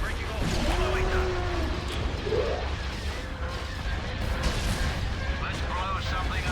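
Starship cannon fire during a space battle in Star Wars Empire at War, a run of booming, crashing blasts with laser-like tonal sweeps, heard under voices talking.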